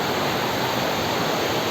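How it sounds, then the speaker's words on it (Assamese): A rocky stream rushes steadily at the Shivkunda bathing spot in Amsoi, Morigaon, Nagaon, water spilling over slippery stones. The constant broadband wash of flowing water stays close and even throughout, with no voices. "ধুনীয়া জুৰি বৈ গৈ আছে"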